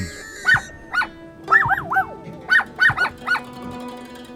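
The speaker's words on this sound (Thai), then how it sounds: "ภายนอกกลับมีเพียงเสียงเห่าจากลูกสุนัขตัวหนึ่งเท่านั้น" A puppy barking up close, about seven high, yappy barks in an uneven rhythm, with no other sounds.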